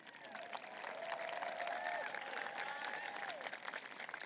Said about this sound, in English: we can clap for her